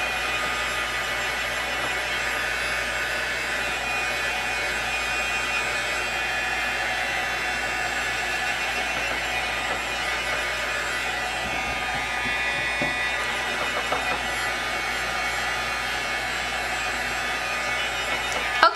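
A heat embossing tool blows hot air to dry gesso on a home decor craft piece, a steady close whirring fan hiss held evenly throughout with no talk.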